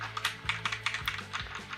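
Rapid clusters of clacking keystrokes on an AOC GK700 mechanical keyboard with Cherry MX switches, many keys pressed at once in quick, uneven bursts, close and fairly quiet.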